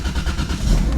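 A 2JZ-swapped 2015 Ford Mustang fired up on a custom exhaust built from an old S14 system, giving a loud, steady engine rumble that holds close throughout with no talk over it.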